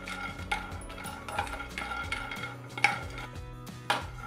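Pistachios, half a cup, dry-roasting in a pan for about a minute, giving a steady clatter and scrape of nuts and spoon against metal with sharper knocks every second or so, close and fairly quiet with no talk.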